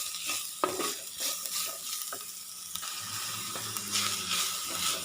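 Chopped onions sautéed in oil in a pan for a prawn roast, a continuous close sizzle and hiss with a spatula repeatedly scraping and stirring, steady throughout with no talking.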